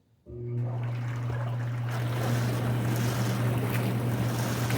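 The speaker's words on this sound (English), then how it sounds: "So I'll turn on the jets and the water and the air." A Hot Spring Moto Massage hot tub starts its jets, pumping water and air: a sudden start after near-silence, then a loud, steady motor hum under a continuous rushing, bubbling roar.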